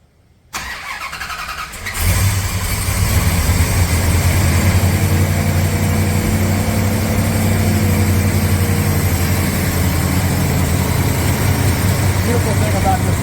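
A 1970 Plymouth GTX V8 roller engine cranks and catches after about two seconds, then settles into a loud, rumbling, lopey idle close by, with a voice speaking over it.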